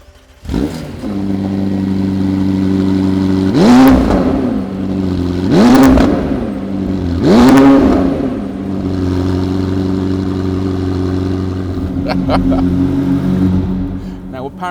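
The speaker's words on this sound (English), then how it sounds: "this is what a full titanium exhaust sounds like" A McLaren 765LT with a full titanium exhaust revs hard three times in a row indoors. Each loud, rising blip falls back to a steady, rumbling idle, with a few sharp crackles near the end.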